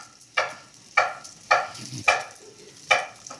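Onions and half-cooked potatoes frying in a pan for a potato and egg frico, heard as five sharp, fairly loud bursts of sizzle at a steady pace, each fading quickly between stirs.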